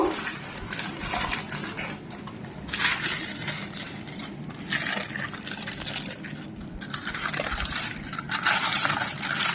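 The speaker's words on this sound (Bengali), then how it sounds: "এখন আমরা ফয়েলে সুন্দর করে মুড়িয়ে দিব।" Aluminium foil crinkles and rustles as it is wrapped around a marinated whole fish for Thai-style baking, a steady close crackle with brighter crunchy bursts throughout.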